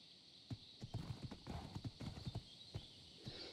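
Horse hooves clip-clop in a steady galloping rhythm, close and distinct over a faint background hum, with no talk, as a horse runs in the game Ark.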